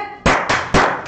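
Three sharp, loud group claps at an even rhythm, each with a short ringing decay, from schoolchildren doing a rhythmic spirit cheer in a class.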